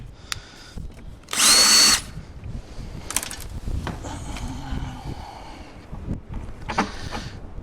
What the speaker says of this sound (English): Next job now, drill holes.